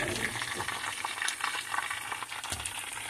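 Chicken thighs sizzle and crackle steadily in a frying pan, a dense, close hiss with scattered pops and a brief stir near the end, no voices.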